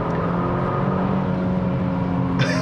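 A 2024 Genesis G70 2.5T sedan driven hard at its limits, its engine holding a loud steady drone with a constant hum and rumble for the whole stretch, a slight gear shift near the end, no talk over it.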